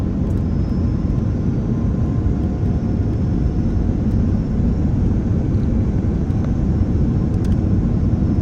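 An airplane landing at Hong Kong International Airport produces a loud, steady, broadband cabin roar that holds unchanged throughout, with no voices.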